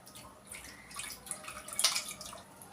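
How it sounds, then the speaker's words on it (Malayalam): Tamarind water is poured into a clay pan set on a lit stove, a quiet, brief trickle and splash that swells for a moment near the end, with no talking. "പുളിവെള്ളം ഒഴിക്കാം."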